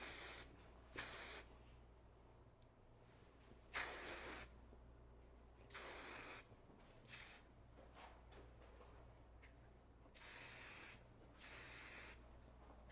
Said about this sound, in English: And we're going to spray it real quick